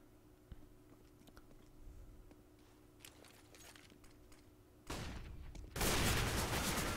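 Gunfire in a CS:GO 2v2 tournament match: scattered faint clicks and shots early, then louder bursts of firing near the end, with no talk.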